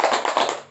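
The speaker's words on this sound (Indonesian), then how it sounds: "tepuk tangan" Children clapping hands together in a classroom, a short burst of quick claps fading slightly before a final clap at the end.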